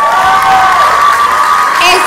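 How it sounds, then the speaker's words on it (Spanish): Audience at the Miss Earth Puerto Rico pageant applauding and cheering, a dense steady wash of clapping and crowd noise with a whoop near the end. "Así que un fuerte aplauso."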